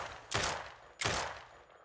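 Two sharp video-game gunshots in No One Survived, about a second apart, each a loud crack trailing off into a brief echo, with no talking.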